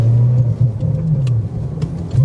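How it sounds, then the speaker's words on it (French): A Ferrari 360 Modena engine with manual gearbox rumbles low and loud up close, revving and surging briefly as it pulls, heard from inside the car. "le son est hyper présent dans l'habitacle, mais c'est pas dérangeant non plus. Parce qu'on entend le moteur"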